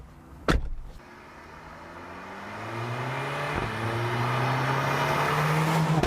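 Mercedes A45 AMG pulling away on a road test drive, engine note rising steadily over several seconds after a couple of sharp knocks at the start, close and fairly loud with no voices.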